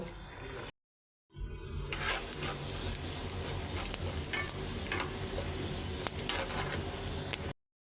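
Beef browns in oil in a pan with a steady, close sizzle and occasional stirring clicks, after a brief silent gap near the start, ending suddenly.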